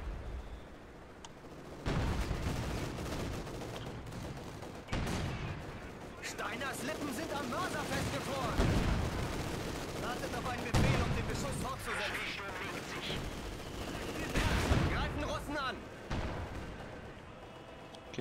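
A mortar barrage in Company of Heroes 2 fires in repeated loud, booming blasts with crackling gunfire and explosions between them, the bursts coming every few seconds with a voice talking faintly underneath.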